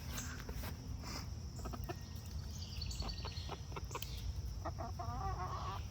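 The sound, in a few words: whiny hungry chickens clucking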